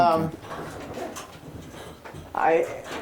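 Racing pigeons coo in a loft, with soft, short, throaty calls at the start and again near the end, under and between quiet talk nearby.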